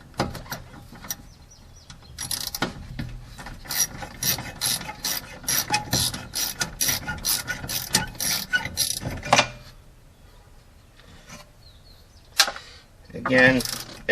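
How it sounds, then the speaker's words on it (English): A 1/4-inch ratchet with an 8mm socket clicks in rapid, regular bursts while loosening fuel pump screws on a Lexus ES300, the pawl chatter close and fairly loud for several seconds, then a pause and a brief final burst. "I'm just going to use a 1/4" ratchet"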